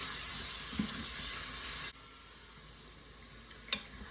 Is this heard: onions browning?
yes